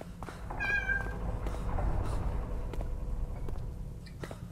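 A pet cat gives a single clear, fairly close meow, followed by quiet shuffling and scattered soft taps in an otherwise calm room.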